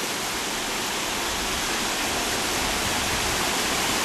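A waterfall at a resort in Chiang Mai, Thailand, rushes as a constant, broadband roar with no variation or voices.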